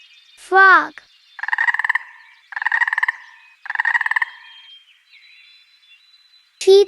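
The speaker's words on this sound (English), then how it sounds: "frog," A frog croaks in three close, rhythmic bouts of rapid pulsed rattling, loud and near, framed by brief squeaky chirps at the start and end.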